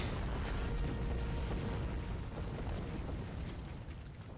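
A torpedo explodes in the Star Trek Online space game, a deep, broad rumbling blast that holds loud for a few seconds and then slowly fades, with no talk over it.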